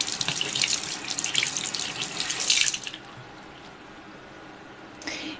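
Water runs from a tap onto a bar of soap and splashes for a few seconds, then stops, leaving a quiet room with a faint wet squish at the end.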